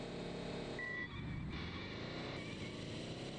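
Engine of a VW Beetle driving in the Midtown Madness racing game, a steady buzzing hum whose pitch dips and rises again as the car slows and accelerates, moderately loud and without speech.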